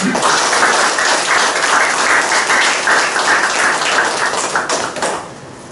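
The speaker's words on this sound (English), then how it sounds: "Let's give an applause for our lovely students and teams for supporting this conference." Audience applause for students and teams at the close of an academic conference, a sustained crowd of clapping hands at moderate level that gradually thins out near the end.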